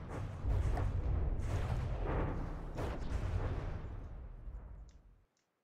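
Missile and artillery fire in the naval combat game From the Depths rolls out as a dense, continuous barrage of booming blasts and bursts, loud and sustained for about five seconds before cutting off abruptly.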